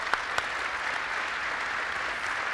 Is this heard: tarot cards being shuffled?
no